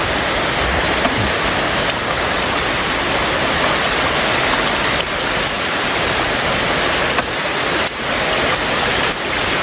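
Heavy rain pours close by in a hilly area, a loud, continuous hiss with no breaks and only a few faint patters standing out.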